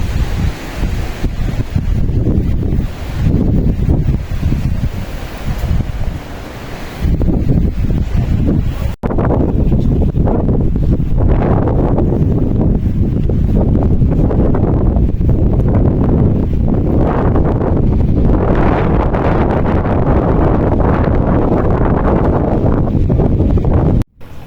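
Strong, gusty wind roaring on Mount Merbabu, buffeting the microphone in loud, continuous rushes that surge and ease, with one brief break partway through.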